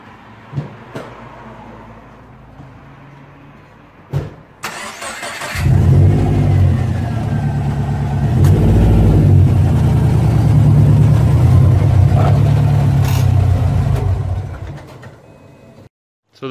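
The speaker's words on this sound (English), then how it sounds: "we'll just drive the car up onto the ramps." A Subaru Impreza engine revs and climbs as the car rolls forward up onto ramps, with a few thumps before it and the motor settling down before cutting off.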